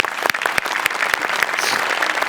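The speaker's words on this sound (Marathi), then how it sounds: "जोरदार टाळ्या." Loud applause from an audience after a comedy performance, a dense burst of rapid clapping close by, sustained throughout.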